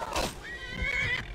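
A horse neighs in the Skyrim video game, a loud whinny rising and wavering across about a second, with faint hoofbeat-like thuds low underneath.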